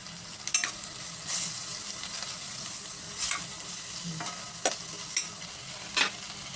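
Garlic frying in a pan with tomatoes and meat, a steady sizzle running throughout, broken by several sharp scrapes and clacks of a utensil stirring at close range.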